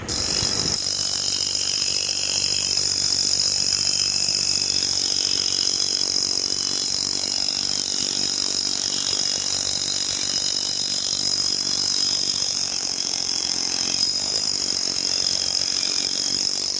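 A power saw grinds steadily through rebar embedded in a precast concrete structure, a loud, continuous, unbroken cutting roar that holds for the whole stretch without pause.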